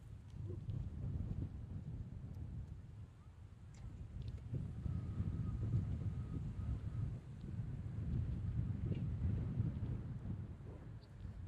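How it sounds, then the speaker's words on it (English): Wind at an outdoor youth lacrosse game buffets the microphone in a continuous low rumble that swells and eases, with faint distant activity beneath it. "And the wind has picked up here a little bit, making it less and less comfortable."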